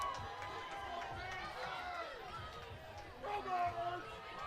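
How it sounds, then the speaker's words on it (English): Crowd of spectators along a Kent State University homecoming parade route cheer and chatter in a steady murmur, with a louder swell near the end, while a nearby voice talks over them. "You hear the cheering going on."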